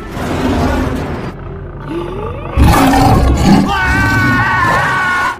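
Lion roaring loudly and close, with deep drawn-out roars and growls, then a sudden louder burst of roaring and thumping action that continues to the end.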